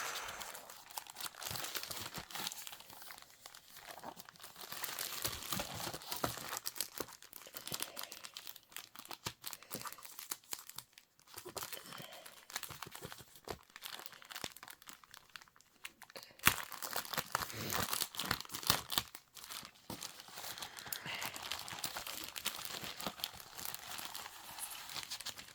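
Wrapping paper crinkles and rustles as a box is unboxed, a close, continuous crackle with irregular bursts and brief pauses across a long stretch.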